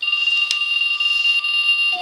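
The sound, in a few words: alarm clock ringing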